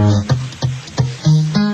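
Uneven, halting plucked-string notes with awkward gaps and abrupt restarts, like a novice fumbling through a guitar, fairly close and moderately loud.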